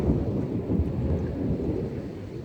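Thunder from a lightning storm rolls as a deep, sustained rumble that fills the whole stretch, with rain faintly hissing underneath and no voices.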